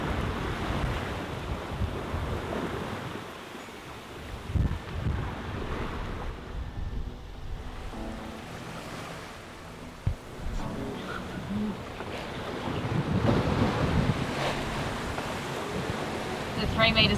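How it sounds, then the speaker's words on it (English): Ocean swell of about three metres surging around a sailboat off the coast, with steady broadband wind and water rush throughout, a few louder wave slaps, and occasional faint voices under the wash. "The 3 metre swell at the moment."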